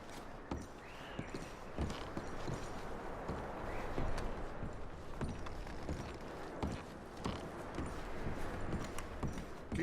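Horse hooves clip-clop steadily at a walking pace in Red Dead Redemption 2, a soft rhythmic clatter mixed with faint movement and rustle, fairly quiet throughout.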